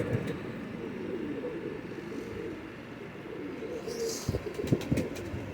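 Low, soft pigeon coos murmur continuously in the background, with a few clicks and rustles near the end.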